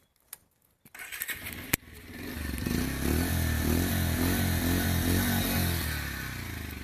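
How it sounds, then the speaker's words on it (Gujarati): A clean, first-owner 2022 Bajaj Pulsar 125 motorcycle is started after a few clicks and clunks, then settles into a steady, close single-cylinder idle with an even, throbbing pulse. "તમે એન્જિનનો અવાજ સંભળાવી દો."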